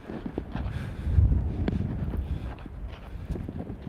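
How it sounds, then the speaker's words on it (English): Gusty wind buffets a microphone outdoors on a windy day, low rumbling blasts that swell and ease unevenly across the moment, close and fairly loud, with faint scuffs beneath. "Yeah, it's pretty windy today."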